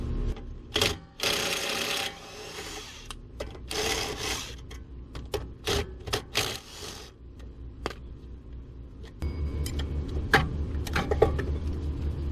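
A ratchet works on the 17mm brake caliper bolts of a Toyota Tacoma, with bursts of rapid clicking alternating with single sharp clacks and metallic handling, followed by a steadier mechanical rattle toward the end.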